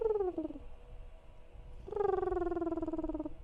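A human voice imitates a cardinal's call with two rising-then-falling whistled tones, a short one and then a longer sustained one with a brief gap between, heard close and fairly loud over a low background rumble.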